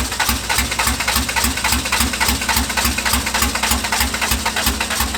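A fully built LS VTEC engine in a Honda Civic EG hatchback runs for the first time, idling loudly and close by with a steady, pulsing rhythm, running rough and uneven on one fueled cylinder.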